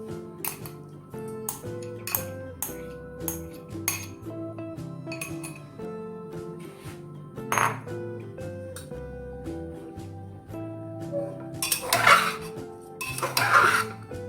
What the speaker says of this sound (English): Just stirring everything.